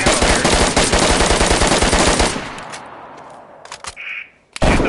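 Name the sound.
gunfire shooting at a wall in the video game DayZ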